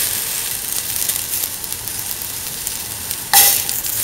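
Red chili sizzling as it fries in hot oil in a pan: a continuous dense crackle throughout, with a sharper burst of hiss near the end.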